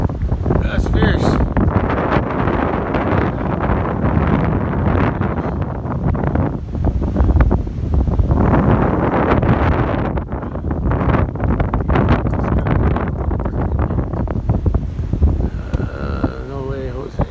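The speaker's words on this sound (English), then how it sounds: "it's windy. Look at that wind." Fierce wind buffets the microphone outdoors at a corral on a rainy afternoon, a loud, steady, rumbling roar that surges and dips without letup for the whole stretch.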